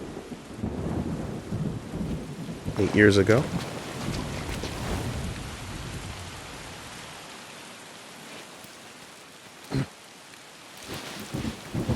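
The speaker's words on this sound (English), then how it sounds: "It's raining." Rain and rolling thunder in the video game Sifu, with a steady rain wash under deep rumbles and a sharp thunder crack, then quieter rain with later thumps, while a person talks over it.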